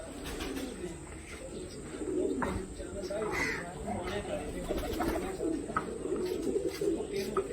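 Pigeons coo softly in low, repeated rolling calls on a rooftop, a faint steady flock sound with scattered higher chirps, while someone talks over them.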